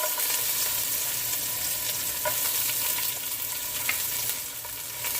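Steady, crackling sizzle of garlic and onion frying in a hot pan for Jamaican-style curry chickpeas, with occasional soft stirring clicks and no talking.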